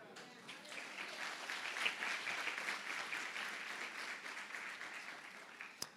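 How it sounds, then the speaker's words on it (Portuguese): Church congregation clapping together, a steady mass of hand claps at moderate distance lasting several seconds, fairly even throughout, with a faint voice underneath. "Você pode glorificar Deus com suas palmas?"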